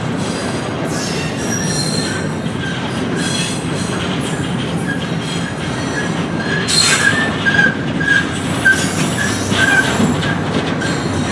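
Freight train cars rolling across a railroad switch on a diverging route, with loud, sustained wheel squeal and rhythmic clickety-clack of wheels over rail joints, heard close by and steady throughout.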